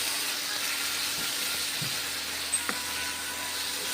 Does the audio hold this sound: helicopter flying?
no